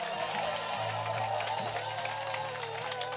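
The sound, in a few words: congregation cheering and applauding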